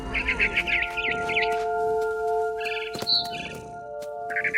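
A barn swallow in the video game What Remains of Edith Finch chirps in quick twittering bursts against a steady electronic hum, with a few sharp clicks between the calls.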